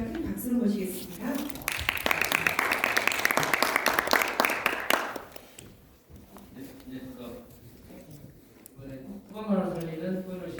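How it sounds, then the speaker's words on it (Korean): Applause breaks out at a disaster-safety communications idea contest, many hands clapping loudly for about three seconds after a speaking voice, then fading as talk resumes. "큰 박수로 모시겠습니다"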